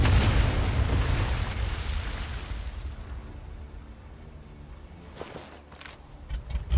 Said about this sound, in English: That explosion got the attention of all the German patrols in the area.